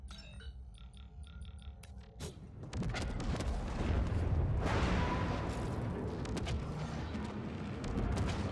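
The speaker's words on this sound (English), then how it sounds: "My own grenade just hurt me." A grenade blast in the video game The Ascent, a loud broadband boom that erupts about two seconds in and rolls on as sustained rumbling debris and crackle, after quieter chirping game ambience.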